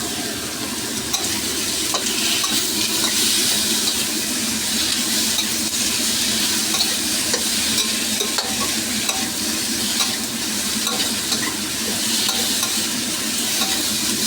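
Pot of sinigang bangus (milkfish soup with tomato) cooking as white radish goes in, giving a steady broadband sizzle and stirring hiss throughout, close and continuous with no talk.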